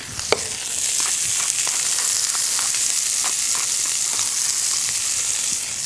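A burger patty sizzles in a pan, a steady close hiss of frying with scattered small pops and crackles throughout, with no talking.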